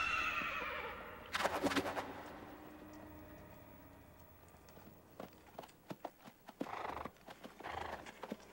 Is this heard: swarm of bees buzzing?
no